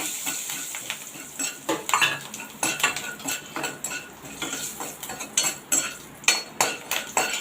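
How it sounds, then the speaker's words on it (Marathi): Seven or eight curry leaves sautéing in hot oil for bread patties, with repeated close metal scraping and stirring clatter of a spatula in the pan over a faint sizzle, no talking. "आता याच्यामध्ये कढीपत्ता घालूया सात ते आठ पानं घेतलेत कढीपत्त्याची ती घालते ती चांगली परतून घेऊया"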